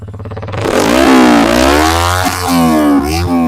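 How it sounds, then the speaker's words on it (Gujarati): A Yamaha R15 v3 motorcycle engine revs hard and close, its exhaust note rising and falling through several loud throttle blips over a rough idle. "એક્ઝોસ્ટ અવાજ બહુ જોરદાર આવે"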